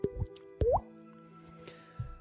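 A human voice imitates a water droplet, producing a couple of short rising plop sounds with quiet pauses between them, close and clear against a faint background hum.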